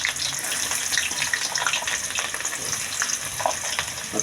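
Chopped onion frying in a pan in a home kitchen gives a steady, dense sizzle with a faint watery hiss that carries on without a break, close by and fairly loud, with no talking.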